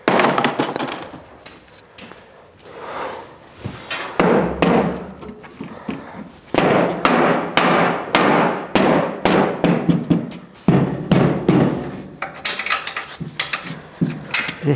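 Irregular metallic knocks and thuds from hammering parts together while building a livestock trailer for a bull, in bursts separated by short pauses, fairly close and loud.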